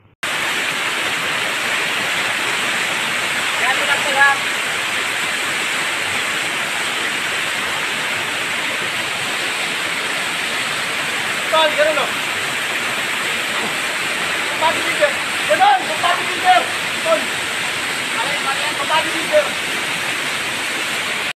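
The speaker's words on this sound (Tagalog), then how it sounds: "Tapos ito naman yung waterfalls na malapit lang doon sa pinagtayuan namin ng tent." A waterfall near a campsite in Baco, Oriental Mindoro, roars as a loud, steady rush of water throughout, with faint splashes and occasional murmurs of voices beneath it.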